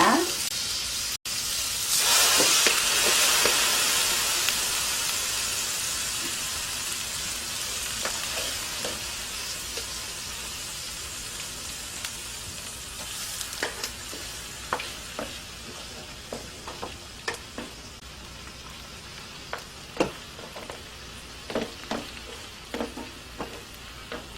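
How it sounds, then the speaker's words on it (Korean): Marinated LA galbi beef short ribs, soaked overnight and still wet with marinade, hit a hot frying pan with a loud hiss. It settles into a steady close sizzle broken by sharp pops and spatula clicks. "이런 프라이팬 같은 데다 구워도 돼요. 국물이 이렇게 짤박짤박하니 구우면 더 좋아요."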